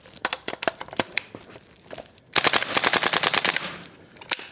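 A WellPro AK12 gas blowback airsoft rifle fires, first in scattered single and short-burst cracks, then a dense rapid full-auto string of sharp reports, close and loud, ending with a lone shot.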